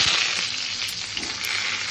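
Mango pieces fry in a pan with a brief, steady close sizzle and soft crackle, no talking.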